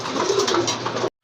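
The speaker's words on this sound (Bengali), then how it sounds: "এক জোড়া ব্লু শার্টিন কবুতর দেখতে পাচ্ছেন" A pair of large blue satin pigeons coo close by in soft, rolling throaty bursts for about a second, then stop abruptly.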